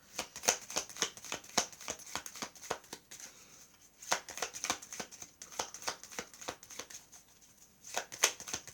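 A stiff, slightly hard-to-mix deck of heart-shaped cards is shuffled by hand. Rapid riffling bursts repeat up close, with a brief pause midway before the shuffling resumes.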